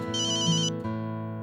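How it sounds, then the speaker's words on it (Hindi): A mobile phone ringtone plays loud and close, a bright electronic melody with sustained tones and a brief change partway through, with no voices over it. "अंजलि, बॉस का फोन"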